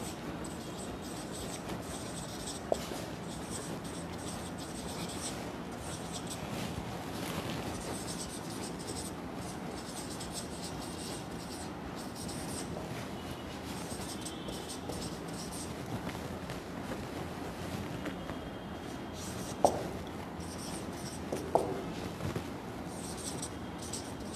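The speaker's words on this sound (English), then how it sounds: "Let me write it down." Pen or pencil writing a long sentence by hand for an English grammar lesson, a soft continuous scratching and tapping close by, with a few sharper taps, steady throughout and without talk.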